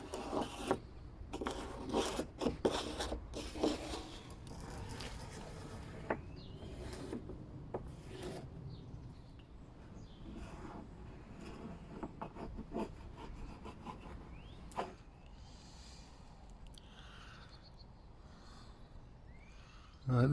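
A coarse-bladed hand saw rips along a board for exterior window cladding, its rough strokes rasping close and steady, loudest early on and thinning toward the end with small knocks between.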